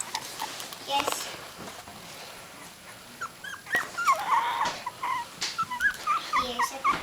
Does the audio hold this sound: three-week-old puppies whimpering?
yes